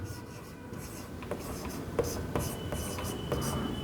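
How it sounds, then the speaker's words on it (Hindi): A pen scratches a name onto paper in short strokes and taps, steady and close, over a soft background hum. "चलिए मेरा नाम ही लिखते हैं"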